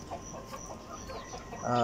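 Several chickens cluck softly in short, scattered bursts close by, with a brief louder squawk near the end and no talk.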